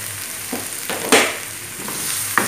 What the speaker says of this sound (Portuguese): Vou deixar a cebola fritar mesmo, tá?